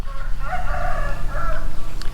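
A rooster crows a single full cock-a-doodle-doo near a garage and workshop build in Thailand, loud and close, with a short extra note at the end.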